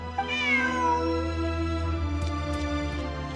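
A cat meows in the video game Genshin Impact, a clear rising then falling cry near the start followed by a low steady musical hum, with light chimes later.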